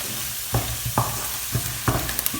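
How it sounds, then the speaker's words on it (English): Garlic fries in a pan for a red lentil curry, giving a steady close sizzle broken by several sharp scrapes and clacks of stirring. "At this stage, I'm going to add my garlic. I'll let it cook also for a few seconds"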